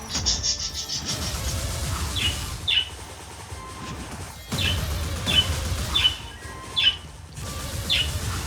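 Bird calls in the video game Wizard of Legend: several short, high chirps scattered over a dense, rumbling game soundscape, with bursts of noise and a brief lull midway.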